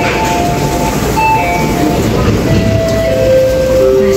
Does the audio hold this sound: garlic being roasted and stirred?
no